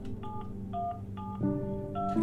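A telephone being dialed in The Final Station: a short series of beeping keypad tones, then a longer held tone, clear and close in a quiet setting.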